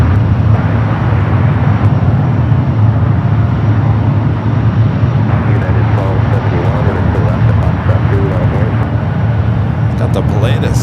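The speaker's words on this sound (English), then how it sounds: "Pilatus taking off 28 left." A Pilatus aircraft takes off from runway 28 left at San Francisco airport, its engine a loud, steady, broadband roar that holds up throughout without fading.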